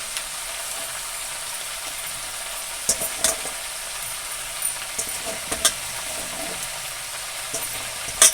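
Spices sizzle in a pan for a radish and prawn chorchori as a little water goes in, a steady hiss broken by several sharp spatters and scraping stirs toward the end.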